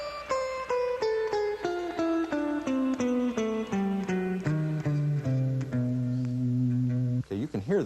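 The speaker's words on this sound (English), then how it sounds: "It's a little melody that descends down the guitar that, at this point, is just eighth notes." A guitar plays a steadily descending eighth-note melody over a jazz blues turnaround, with clear sustained single notes stepping down in pitch at an even pace, ending with a brief wavering flourish.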